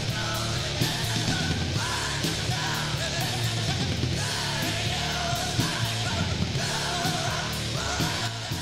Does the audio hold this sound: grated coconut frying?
no